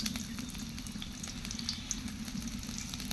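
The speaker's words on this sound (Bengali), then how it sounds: "তো এই যে পেঁয়াজটা লাল লাল করে ভেজে নিচ্ছে" Onions frying in oil in a pan, a close, steady crackling sizzle with faint stirring, continuous and without talk.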